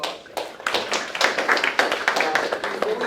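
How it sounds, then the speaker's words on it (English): Applause from a small crowd, steady patter of many hands clapping, moderately close, with no talking over it. "I'd like to give a round of applause to our fantastic guest speakers"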